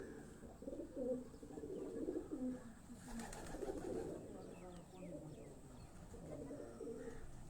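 A racing pigeon coos in soft repeated bursts at low volume, with distant people talking faintly in the background.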